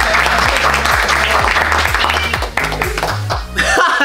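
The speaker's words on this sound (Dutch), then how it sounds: "Klappen, boys." A small group claps and laughs over loud background music with a pounding beat, the clapping brief and scattered.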